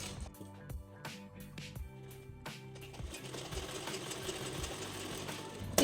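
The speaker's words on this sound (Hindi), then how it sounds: "और यहाँ पर अब एक सिलाई लगा लेनी है।" A sewing machine runs continuously while stitching a blouse seam, a steady close mechanical whir with rapid needle clatter that grows louder and denser after the first few seconds.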